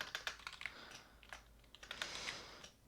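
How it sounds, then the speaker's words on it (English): Typing on a computer keyboard while writing Python Flask code: rapid, irregular clusters of light key clicks, close and fairly quiet, with no talk. "Wow, I can't type."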